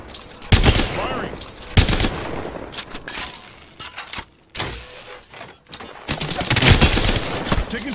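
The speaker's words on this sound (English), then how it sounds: "Firing." Gunfire in the battle royale game Apex Legends, loud rapid automatic bursts in several volleys with brief pauses between them, close and forceful, mixed with game effects.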